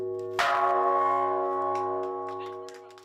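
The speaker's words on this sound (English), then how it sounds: "ring the bell to awaken people's conscience" A large bell is struck once at the Stockholm Plus 50 conference, ringing out loud and close with a long sustained tone that slowly decays under a faint low hum.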